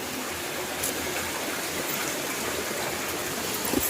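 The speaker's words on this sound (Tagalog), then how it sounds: "maririnig po natin na talagang medyo malakas yung agos ng tubig" Strong water rushes steadily at Busay Falls in Maonon, Ligao City, a loud, continuous broadband roar of flowing water over sharp rocks, with no voices.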